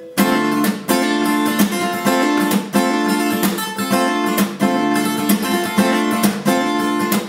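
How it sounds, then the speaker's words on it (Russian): Acoustic guitar strummed in a steady, rhythmic pattern with crisp down-and-up strokes, close and loud, no voices. "играется наш куплет при помощи одного самого боя, который звучит вот так."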